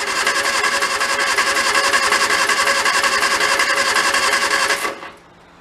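A 1965 Hillman Imp engine, long parked, runs on choke with a fast, steady buzzing idle that holds loud and even for about five seconds, then cuts off abruptly, leaving a faint tail of quiet.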